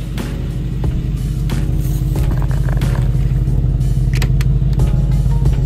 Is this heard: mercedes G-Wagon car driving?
yes